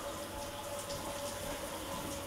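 Steady broadband rush of water running from a tap, continuous and fairly close, with no voices over it.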